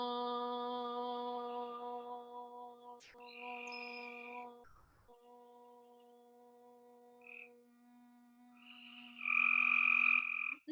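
Frogs croak in repeated bursts near an outdoor yoga class, over a steady sustained chanted hum, ending in a louder, denser croaking chorus.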